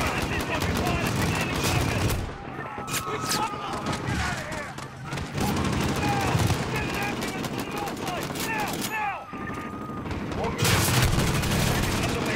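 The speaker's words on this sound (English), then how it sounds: "Oh, somebody's shooting at me." Bursts of gunfire and automatic weapon fire crackle nearly nonstop in Call of Duty: Modern Warfare (2019), loud and close, with short lulls and booming impacts layered over game voices.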